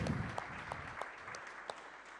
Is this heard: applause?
yes